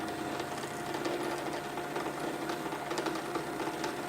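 A sewing machine hums and stitches continuously while an old shirt is remade into a blouse, a steady close mechanical whir with no talking.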